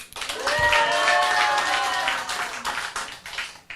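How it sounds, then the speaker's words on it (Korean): A lecture audience breaks into steady applause that swells quickly and holds for several seconds, with a few voices calling out over the clapping. "박수 한번 쳐주시겠어요?"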